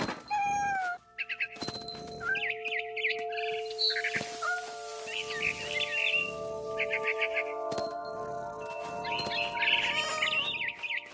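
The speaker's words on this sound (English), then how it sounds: "Then I heard chirping outside my window. It was a barn swallow going back to her nest." A barn swallow chirping in the video game What Remains of Edith Finch, with clusters of quick bright twitters repeating over a sustained tonal musical background and occasional soft thumps.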